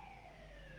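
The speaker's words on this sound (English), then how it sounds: "there's a siren going past. We've got a fire station right up the road" A fire engine siren from a nearby fire station wails as it passes, heard faintly and steadily in the distance with a slowly sliding tone.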